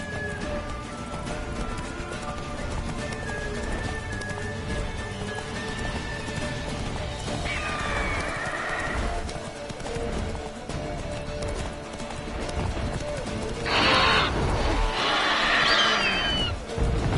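A horse in Witcher 3 keeps up a steady clip-clop gallop. Mid-clip it neighs, and toward the end it lets out two louder whinnies over the hoofbeats.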